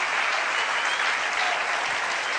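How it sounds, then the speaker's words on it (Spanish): Loud, dense applause from a church congregation, a continuous wash of clapping heard on its own for the whole stretch. "denle un aplauso bien fuerte"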